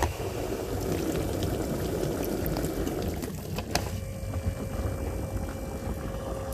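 Water drains out of a GE dishwasher basin with a fault at the drain assembly, a steady gurgling, rushing flow that thins out partway through, close and moderately quiet, with no talking.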